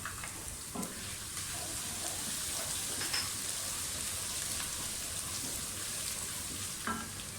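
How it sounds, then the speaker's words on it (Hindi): Onion with grated garlic and ginger sizzle and crackle steadily in hot oil for a moong dal tadka, a close, continuous frying hiss with occasional soft stirring clicks. "प्याज फ्राई होते हैं।"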